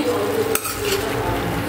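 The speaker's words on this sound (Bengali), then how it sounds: "আমার পটল আলু মশলা দিয়ে কষানো হচ্ছে।" Pointed gourd and potatoes sautéing with spices in a pan, giving a steady close sizzle with a brief stir or utensil scrape midway.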